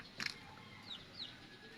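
Native red junglefowl pet chickens, wet from heavy rain, step out of their coop with a brief close cluck or wing flutter, then faint scattered chirping calls over quiet background.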